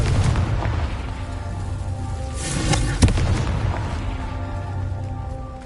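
Confringo fire spell exploding in the game Hogwarts Legacy: a sustained booming, fiery roar with a sharp crack partway through, heard loud and close over dense game background noise.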